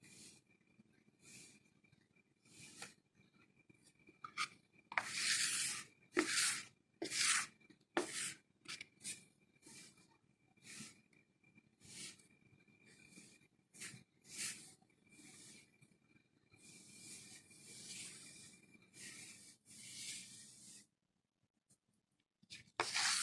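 Pâte sucrée dough is crushed and worked by hand on a floured work surface, giving soft, close rubbing and scraping strokes in irregular bursts with short pauses, fairly quiet and with no voices.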